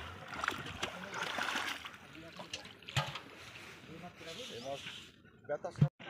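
Fish poured from a container into a village pond at Purandarpur, with repeated splashes and sloshing water and a sharp splash near the end, under nearby voices talking.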